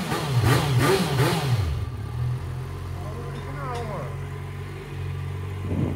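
Vehicle engine with its original exhaust revving hard at first in loud rising bursts under a voice, then settling into a steady low rumble while he keeps talking.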